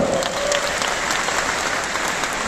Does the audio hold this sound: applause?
yes